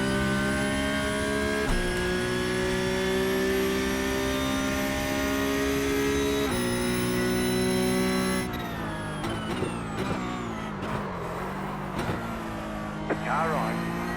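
Porsche 911 Cup car engine racing in iRacing, a loud continuous high-revving whine with sharp gear shifts and pitch drops, followed by lower revs, while someone talks over it.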